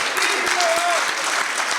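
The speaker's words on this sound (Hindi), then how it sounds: "भाई जरा तालियां एक बार बजा दीजिए।" At a Hindi poetry gathering (kavi sammelan), the crowd claps together in a sustained burst, with a few sharper individual claps and a brief voice rising over the applause.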